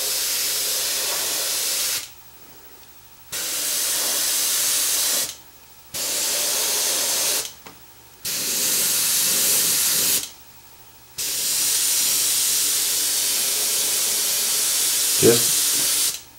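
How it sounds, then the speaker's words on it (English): An airbrush sprays paint onto clear lexan in a light first coat, with five loud, steady hissing bursts of several seconds each, separated by short quiet pauses, and a small knock near the end. "I'll put down a light coat around all the edges first"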